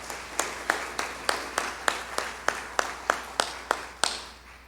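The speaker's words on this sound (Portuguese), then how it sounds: "Pode aplaudir Jesus." Slow, steady rhythmic clapping from a church congregation, about fourteen evenly spaced claps over a few seconds, moderately close and without talk over it.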